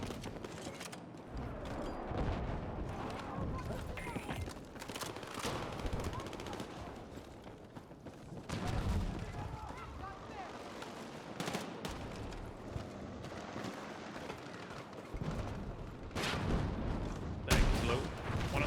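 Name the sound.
machine gun fire in the video game Battlefield 6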